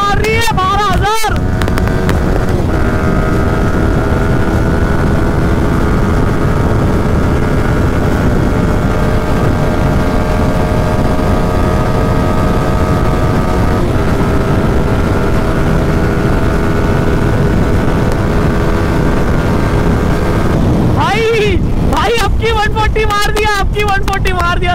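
A motorcycle engine holds a loud, steady high-pitched drone near 12,000 rpm, with a burst of revving at the start and end and heavy wind buffeting on the microphone.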